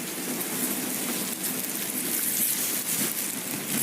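Steady rain falls in a continuous hiss, dense and even throughout, with no voices, as the weather for a sports-themed station segment is switched from heat to rain.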